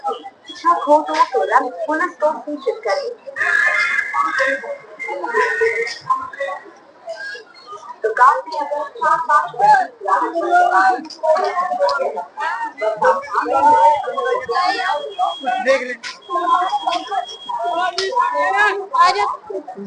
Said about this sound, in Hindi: देखिए इतनी भीड़ हो रही है।